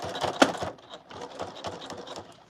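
A sewing machine top stitching along a serged seam on a circular piece, running in quick uneven bursts with clicky mechanical texture, close and moderately loud.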